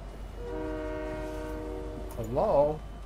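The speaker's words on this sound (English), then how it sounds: "Train's here." A train horn in Fortnite blares a sustained chord as the train arrives, followed by a louder, bending blast near the end, with faint rail rumble beneath.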